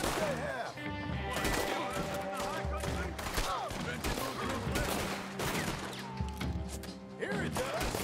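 Enemy gunfire in Red Dead Redemption 2, a dense barrage of shots mixed with mechanical clicks and clatter, loud and close, with voices and other game sounds layered underneath.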